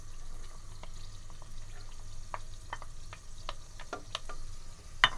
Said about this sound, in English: And now we're just going to saute them on medium heat for 10 to 15 minutes until they become somewhat soft.